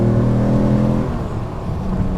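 A TVR sports car engine revs hard and close, a loud sustained roar with steady harmonics that eases slightly midway before building again, with no voices.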